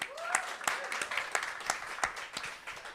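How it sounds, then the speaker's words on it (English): Brief audience applause at a food systems panel event, scattered hand claps with voices mixed in, moderately loud and fading toward the end. "Round of applause."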